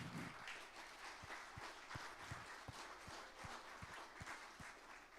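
A church congregation in Zacatecas offers a round of applause for visiting pastors, a steady wash of many hands clapping at moderate distance, with a few louder claps standing out in a rhythmic beat.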